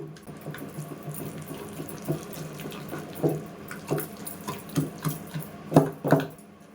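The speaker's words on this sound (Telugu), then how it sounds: "ఇప్పుడు ఈ పచ్చడి దంచేద్దాము." Gongura chutney is pounded by hand in a stone mortar, a series of dull, moderately close thuds in an uneven rhythm that grow a little stronger toward the end, over a soft wet mashing background.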